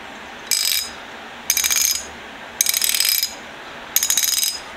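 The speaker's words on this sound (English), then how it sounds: "S52 Super Ratchet. This is a 1/2 inch. J.H. Williams and Company." A 1/2-inch J.H. Williams S52 Super ratchet clicks dry in four quick bursts of rapid, crisp pawl clatter, with short silent gaps between strokes.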